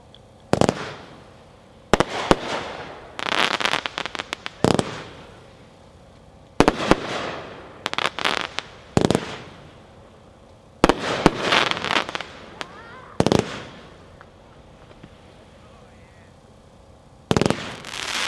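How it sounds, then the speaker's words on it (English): Gunslinger's They're Watching, a 125-shot fireworks cake, fires in repeated loud bursts of rapid crackling pops separated by short pauses, with a few single sharp reports and brief quiet gaps between volleys. "Number 9, They're Watching by Gunslinger, packed 4, 125 shots."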